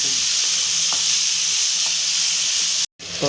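Greens stirred in a pan with red chili powder, a close, loud, broadband sizzle with faint utensil clicks, broken by a brief dropout near the end before the frying resumes, no speech.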